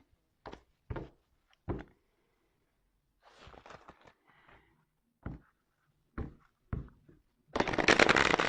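A deck of large tarot cards being handled and shuffled: several short, separate riffles and taps, then a longer, louder shuffle at the end, in a quiet room.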